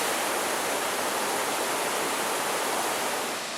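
A waterfall in the Porcupine Mountains near Lake Superior roars in a steady, dense broadband rush, loud and unbroken throughout with no other sounds.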